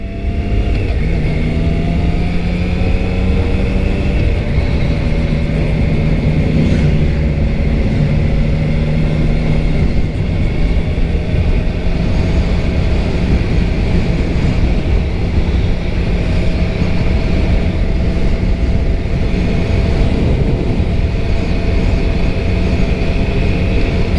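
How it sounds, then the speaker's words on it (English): A small three-cylinder Triumph Trident motorcycle being ridden, its engine droning loud and steady with shifting tones as speed changes, under constant wind rush, with no voices. "This is a Triumph Trident. Also a 3-cylinder, but a small 3-cylinder."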